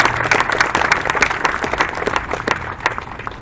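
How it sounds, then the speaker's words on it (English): Audience applause at a downtown Kalamazoo groundbreaking ceremony, a short burst of many hands clapping close and fairly loud. "I think they deserve a round of applause"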